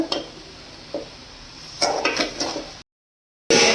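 A spoon stirring raw mango jam in a pot over low heat while the sugar dissolves, giving a few soft scrapes and clinks against the metal, followed by a brief silence and then another scrape.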